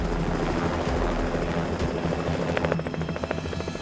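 A helicopter near a landing pad at a remote jade mining site, its rotor thumping steadily and loud throughout with a continuous engine roar, the blade beat growing more distinct toward the end.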